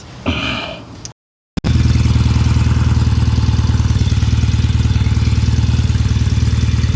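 A Norton Commando Mk2a motorcycle, kick-started after priming kicks, catches first time and settles into a loud, close, steady rhythmic idle, after a brief clatter and a short silence.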